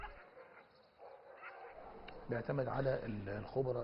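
Security dogs at an Egyptian training center bark and yip in short bursts, moderately close, mixed with other voices and background activity.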